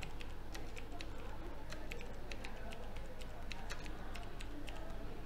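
Typing on a computer keyboard while entering text into an ERP form, with light, irregular clicks scattered over a steady low hum and faint background noise.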